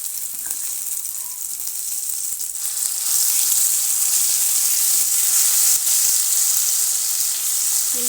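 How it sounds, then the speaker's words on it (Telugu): Ground masala sizzling in hot oil for an egg masala sambar, a steady loud frying hiss that grows fuller partway through, close and continuous with no voices. "మసాలా అనేది బాగా ఫ్రై అవనిద్దాము."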